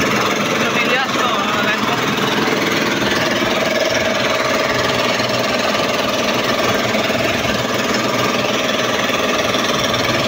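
Small outboard-powered boats run steadily on open water in strong wind, a constant loud engine drone under heavy wind noise throughout.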